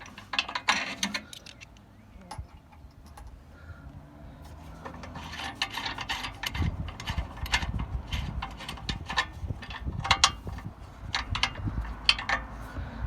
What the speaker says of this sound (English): Undo the back two 19mm nuts.